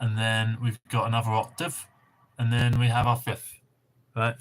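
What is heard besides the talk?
No everyday noise stands out behind the speech.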